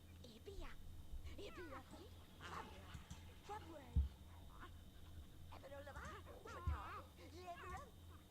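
Pet dog in the Sims 2 life-simulation game whimpering and giving short yips and barks in scattered bursts, a few louder thumps among them, with people talking throughout.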